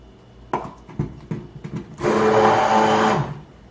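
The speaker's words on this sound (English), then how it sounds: "The blender gets too heavy after a while." A few scattered knocks and clatters, then a stick blender starts up in soap batter and runs with a loud buzzing whir for over a second before stopping.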